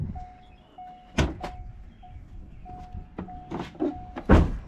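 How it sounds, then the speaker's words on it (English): The hood of a 2001 Chevrolet Corvette Z06 is opened with a few close thunks and clicks as the latch releases and the panel lifts, over a faint steady tone and light handling noise. "let me open up the hood"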